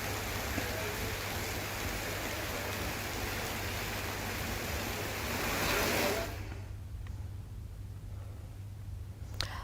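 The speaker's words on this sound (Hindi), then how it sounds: "ओडल नदी उफान पर है। पानी पुलिया के ऊपर से बह रहा है" Steady, loud rushing water of the flooded Odal river in Madhya Pradesh roars continuously, pouring over a small bridge during heavy rain, then drops to a softer wash near the end.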